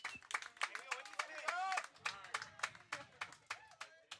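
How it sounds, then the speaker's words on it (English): A crowd at a high school baseball game in Santa Barbara, clapping in a steady rhythm of sharp, evenly spaced claps, faint and distant, with a whistle or cheer rising briefly in the middle. "Reigniting the crowd here at Santa Barbara High School."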